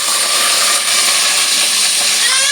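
Onions frying in a pan, a steady close sizzle and hiss filling the whole stretch without pause, loud and even, with no talking over it.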